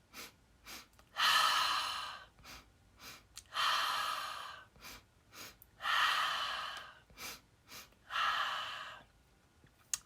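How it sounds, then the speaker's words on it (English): Breathing exercise up close: a few quick, short sniffs in, then a strong, forceful exhale, repeated four times in a steady cycle. "a couple short sniffs in, and we're going to work on exhaling, a strong exhale"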